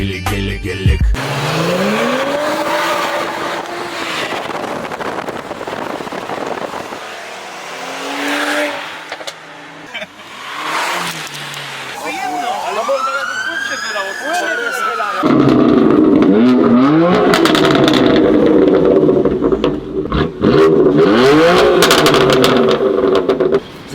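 A car drifting on the handbrake, its engine revving in rising and falling sweeps with some tyre squeal, heard close and loud under frequent talking and background noise.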